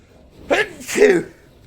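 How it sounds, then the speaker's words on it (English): A single sneeze, a sharp intake followed by an explosive burst, close and loud in an otherwise quiet setting. "I've been sneezing a lot over the last couple of days."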